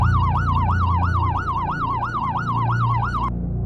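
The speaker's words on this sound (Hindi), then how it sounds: "कुछ ही देर में दूर से सायरन की आवाज सुनाई दी।" A police siren wails in steady rising-and-falling cycles over a low engine rumble, loud and sustained rather than distant, cutting off abruptly near the end; no voices accompany it.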